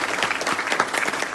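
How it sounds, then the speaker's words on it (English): An audience at a domestic violence and public safety forum claps, a short dense patter of many hands at moderate loudness. "let's give them all a big round of applause"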